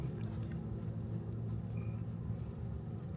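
Low, steady engine and road rumble from a Lexus ES 350 F Sport cruising on a rainy night, heard from inside the cabin as an even drone with no music and no talking.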